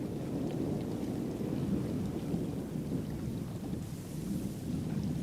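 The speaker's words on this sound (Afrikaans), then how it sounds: "Daar's 'n sneeustorting iewers." A distant snow avalanche in the mountains in spring, heard as a low, faint, continuous rumble much like far-off thunder, sustained throughout with no voices.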